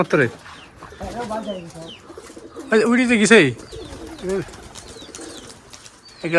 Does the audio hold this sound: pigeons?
yes